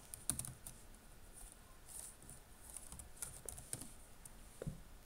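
Computer keyboard keys tapped at a desk while a password is entered during a home media server setup, giving soft, quiet, irregular clicks in a brief run with no talking.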